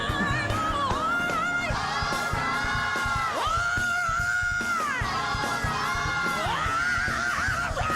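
Shrill crowd screams and whoops ring out under loud gospel music at a live tribute concert, with a big walking bass line and a singer's voice running continuously throughout.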